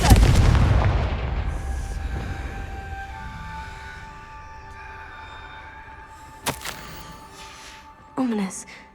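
A Confringo fire spell blasts in Hogwarts Legacy with a loud booming burst that rings out into a long, decaying tail, followed by a few sharper magical cracks and whooshes later on.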